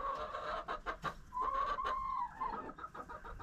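Chickens clucking in a backyard coop, a steady run of close, overlapping clucks and drawn-out calls from a small flock with no talk.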